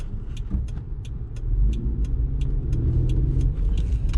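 A 1992 Mitsubishi Pajero's 3.0-litre V6 idles with a steady, throaty low rumble, close and continuous, with faint periodic ticking above it and no talk.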